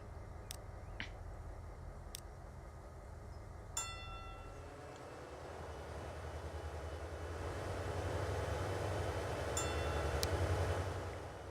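A commuter train rolls through a Transport Fever 2 game world, a low rumble that swells louder toward the end, with a few faint clicks scattered over it.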